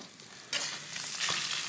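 Garlic clove halves dropped into a hot HexClad pan beside a searing steak, bursting into a loud, close crackling sizzle after a quieter start, with a few stirring scrapes.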